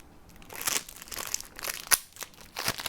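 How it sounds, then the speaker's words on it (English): A sticker being peeled off a Jaspas Eggplant edition playing card deck, giving a close, faint run of crinkly tearing and crackling with a few sharper snaps, alone without voices. "Peel off the sticker absolutely perfectly."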